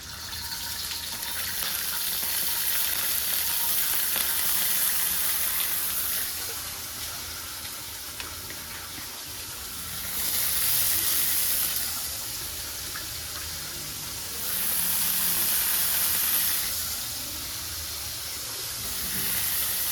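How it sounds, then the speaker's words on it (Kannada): Onions sizzle and fry in a hot pan with ginger garlic paste for dal khichdi, a steady hiss that swells into louder, steamier surges several times. "ಈಗ ಇದಕ್ಕೆ ಆನಿಯನ್ಸ್ ಹಾಕ್ಕೊಳ್ಳೋಣ"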